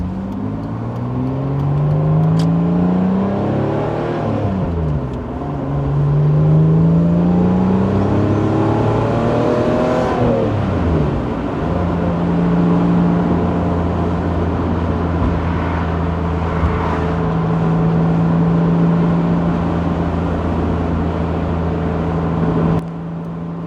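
An NB Miata with a swapped Jaguar 3.0 V6 drives on the road, its engine revving up and down through several gear changes, then settling into a steady cruising drone, close and loud with no talking.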